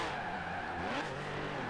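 Porsche with a 3.3-litre turbo engine in Forza Horizon 4, a steady loud engine roar with tyre noise as the car drives hard, held continuously and close.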